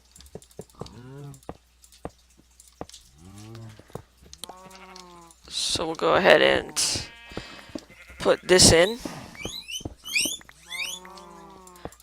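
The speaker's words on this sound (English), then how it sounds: "If you can hear screaming, or the sounds of screaming, or squealing, anyway, that would be my guinea pigs, because they apparently want something to eat." Pet guinea pigs squeal for food in a room, giving several high, wavering squeaks that rise toward the end while someone talks nearby.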